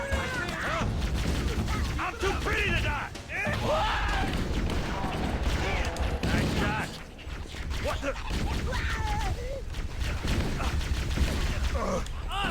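Continuous rapid gunfire and mechanical clatter from a firefight in the video game Halo: Combat Evolved, loud and dense throughout with short dips, while someone talks over the shooting.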